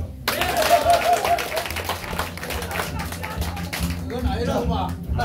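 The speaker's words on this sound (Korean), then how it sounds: "동의하시면 박수 한번 주십시오" An audience gives a round of applause at a mountaineering club president's inauguration ceremony, dense clapping from a crowd indoors lasting several seconds, with someone talking over it.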